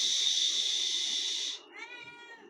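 A cat gives a loud, sustained meow close up, followed by a shorter rising second meow, with no talking over it.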